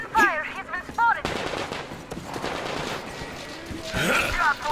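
Machine gun fire in Metro Exodus, rapid bursts of shots mixed with shouting voices, loud and close, with a renewed burst near the end.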